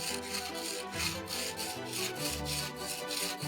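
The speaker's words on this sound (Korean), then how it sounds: "사포로 날카롭게 갈아줘야겠네요." A cheap Daiso awl is ground flat against sandpaper in quick, even back-and-forth rubbing strokes, a close, rhythmic rasping with no voices.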